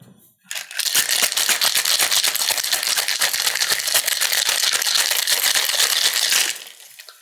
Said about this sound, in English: I have a shaker full of ice here. It's time for the shaky shaky.